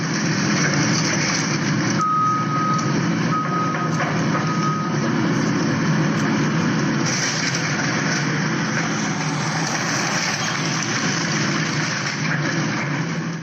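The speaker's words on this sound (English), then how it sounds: "That is the sound of the house at 94 Dole Street in Crystal Lake, Illinois, where AJ was murdered, being demolished on Wednesday, March 4th, 2020." Heavy machinery demolishing a house in Crystal Lake, Illinois: a steady, loud diesel engine rumble runs throughout, with intermittent reversing beeps and broadband crunching and clatter of debris, with no talking.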